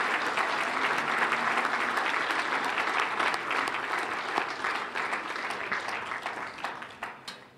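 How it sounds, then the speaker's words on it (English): Audience applause for four performers at a chamber of commerce awards gala and talent show, a dense steady clatter of many hands that gradually thins and fades toward the end. "We could have another round of applause for all 4 of our performers this evening."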